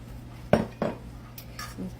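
A spoon stirs melted butter, orange juice and sugar in a saucepan over medium heat. Two distinct metallic clinks against the pan come close together, followed by softer scraping and light knocks.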